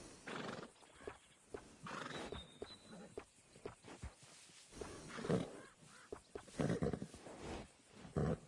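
Horse neighing with clopping hooves in the Red Dead Redemption 2 video game, a whinny rising over steady clip-clop footfalls and bursts of animal noise, moderately loud and continuous.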